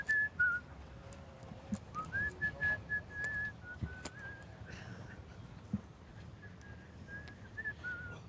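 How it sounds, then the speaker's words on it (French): A person whistles a wavering, faint melody over a murmuring background, with scattered knocks and clicks. "C'est lui que vous entendez siffler"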